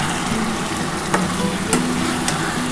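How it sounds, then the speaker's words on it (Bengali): A spice paste with a little sugar sautéed in a pan for a rohu fish curry with potato and cauliflower, giving a constant dense sizzle with a few sharp spatula clicks. "এবার খুব ভালো করে এটা কষাতে হবে"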